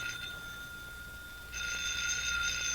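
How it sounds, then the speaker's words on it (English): A telephone bell rings as a radio drama sound effect, a steady electric ring that swells louder partway through, heard alone with no voices. "that's your phone"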